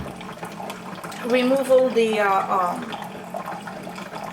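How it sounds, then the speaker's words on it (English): Clear water running through a coffee maker after descaling, a steady soft trickle and gurgle running the whole time beneath a woman's speech. "you let it run with clear water with no descaler in it"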